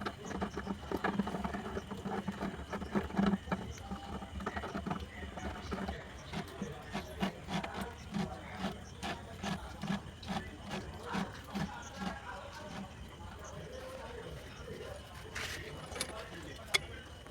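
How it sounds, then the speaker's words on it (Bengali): A mechanic fits and tightens the nut on the oil chamber of a Tata truck, making scattered metallic clicks and ratchety taps at close range while someone talks throughout. "এবার মোবিল চেম্বারের নাটটা লাগাবো।"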